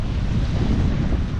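Wind gusts steadily by the sea at a fishing town, a close, continuous rumble buffeting the microphone for a brief moment with no voices.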